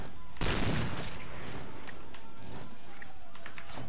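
Gunfire in the video game W.O.E with a Cheytac M200 sniper rifle: one loud close burst of shots early on, then busy clatter and scattered distant shots, with no voices in the clip.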